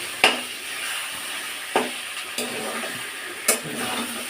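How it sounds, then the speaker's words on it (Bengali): Homemade noodles sizzle gently in a wok with an omelette, with several distinct scraping stirs of a spatula against the pan spaced a second or so apart. "নুডলসটা কড়াইতে ঢেলে ভালো করে অমলেটের সঙ্গে ভালো করে ভাজতে হবে।"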